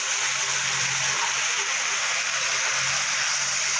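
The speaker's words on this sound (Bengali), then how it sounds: "এবার একটু সামান্য জল দেবো যাতে মশলা না পুড়ে যায়" Water is poured into a cooking pot of spice paste with tomato paste for chicken curry, giving a steady continuous wash of splashing that stays even and fairly loud for several seconds with no talk.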